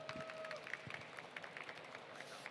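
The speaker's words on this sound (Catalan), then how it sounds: "un fort aplaudiment per ell" Faint applause from an audience at the 30 Manga Barcelona event, welcoming a speaker on Dragon Ball, with scattered claps patters steadily and sounds distant and quiet throughout.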